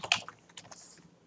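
Keystrokes on a computer keyboard, a short burst of several quick taps with one louder click near the start, fairly close and alone without talk.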